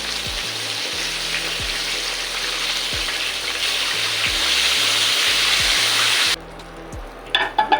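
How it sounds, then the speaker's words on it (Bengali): Chicken breast pieces fry in oil over low heat, a loud, steady sizzle with soft thumps, fading near the end into quieter scraping and clinks. "এই একই নিয়মে সব কয়টা মাংস আমি ভেজে নেব।"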